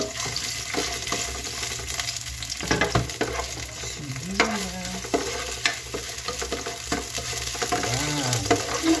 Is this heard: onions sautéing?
yes